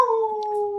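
A dog lets out a single sustained howl, a clear, steady tone held for nearly a second, close and loud with no talking over it.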